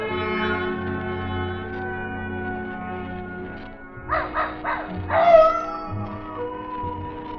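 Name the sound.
dog barking at distant coyotes, radio drama effect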